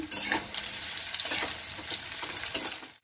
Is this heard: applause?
no